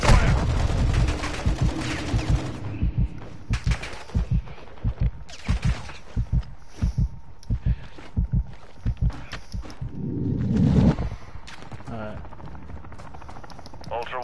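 Gunfire in an online PS4 shooter game, evenly spaced single shots in a steady rhythm alongside heavier opening bursts, with a low rumble swelling near the end.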